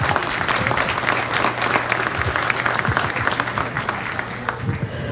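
Audience at a hog show applauding the exhibitors, a dense steady patter of many hands clapping across the whole stretch, loud and close, with no talk over it.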